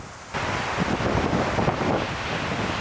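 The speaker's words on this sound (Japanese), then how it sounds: "風がすごいから波がすごいの。" Strong wind buffets the microphone over rough Pacific surf breaking along a rugged rias coastline of eroded cliffs, a loud continuous roar with no speech.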